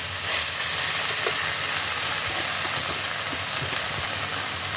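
Broccoli and mixed vegetables fry in a pan, giving a steady, loud, even sizzle with occasional soft pops and crackles throughout, no voices present.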